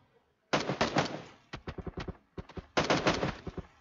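Gunfire from PUBG: bursts of close automatic shots, first a dense run, then a string of separate rapid cracks, and then another dense burst, loud and sharp with no talking.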